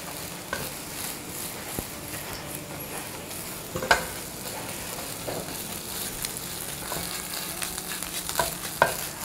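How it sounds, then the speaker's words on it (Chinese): Eggs beaten with a little salt fry in oil in a flat-bottomed pan, a steady broadband sizzle running throughout with occasional sharper pops and spatula clicks, close and moderately loud, no talking. "要煎一煎，把这个鸡蛋两面给它煎黄。"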